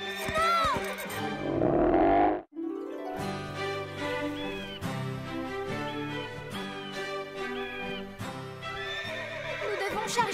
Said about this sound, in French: Marie et Chili, le cheval de Chloé, doivent apprendre à mieux se connaître.